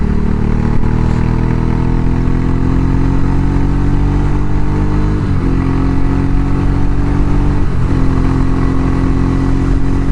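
A motorcycle's exhaust thumps at a steady close, loud idle and revs up briefly twice, engine note rising and falling back, with no voices.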